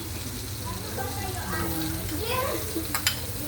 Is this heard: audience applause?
no